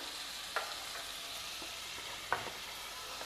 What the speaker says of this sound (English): stir fry all of them together also in the oil. Fry red tomato